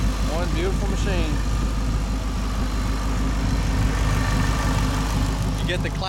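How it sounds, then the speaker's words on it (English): A hand-built supercharged V8 in a 1933 Ford roadster hot rod with a polished stainless steel exhaust idles steadily and loudly up close, a deep continuous rumble with faint speech over it. "Hand built engine. One beautiful machine."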